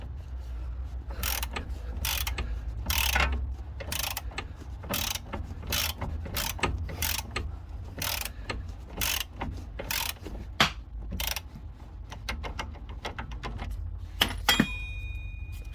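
A ratchet clicks in repeated bursts, loosening a bolt on the front spring assembly of a BMW 5 Series; close, sharp ratcheting strokes with short pauses between them.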